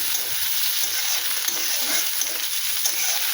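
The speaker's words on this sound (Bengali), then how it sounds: "এই যে পেঁয়াজ দিলাম" Onions frying in a pan for a spicy fish curry with eggplant give off a steady, close sizzle that holds throughout, with faint stirring and no voices.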